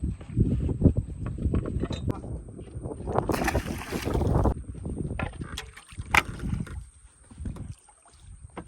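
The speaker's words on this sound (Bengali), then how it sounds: "আমাদের নৌকা চলছে নৌকা পাওয়ার কোনো দরকার হচ্ছে না এত স্রোত নৌকা টেনে টেনে নিয়ে যাচ্ছে স্রোতে" Boat drifting unpowered on a strong river current, with water lapping, wind buffeting the microphone and occasional knocks against the hull.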